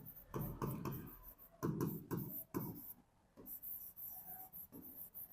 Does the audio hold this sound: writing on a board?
yes